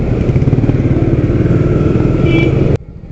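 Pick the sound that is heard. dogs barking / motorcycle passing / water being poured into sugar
motorcycle passing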